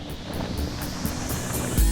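Ocean waves wash onto a beach at Puerto Vallarta, Mexico, a continuous broadband surf hiss mixed with wind rumble, with one louder surge near the end and no voices.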